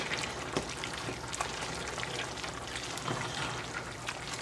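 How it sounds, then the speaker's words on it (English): A ground turkey mixture simmers down in a pan, a quiet, even bubbling and spitting sizzle with small pops scattered throughout, no talking. "And then you're just going to let this cook down and reduce the liquid that's in here."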